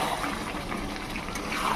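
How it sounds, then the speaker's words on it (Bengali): Water is poured into a pan of fried meat and potatoes, producing a short, dense gushing wash of liquid over the hot food with no speech. "এবারে দিয়ে দেবো জল"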